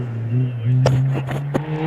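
A Caterham race car finishing its hillclimb run at Prescott, engine droning steadily at a distance with a gear change partway through and a few sharp mechanical bursts.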